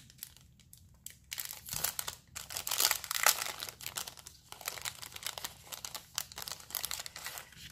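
Paper crinkling and rustling as a mail package is opened and its contents handled, close and fairly loud, in irregular bursts of crackles with no talking.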